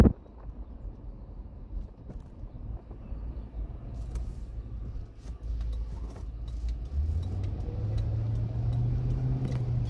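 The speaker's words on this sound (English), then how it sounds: "just touching the gas. Takes right off." A 2006 Ford Crown Victoria Police Package pulling away, its engine rising from a soft idle into a louder, climbing drone over a few seconds, heard from inside the car with light road noise.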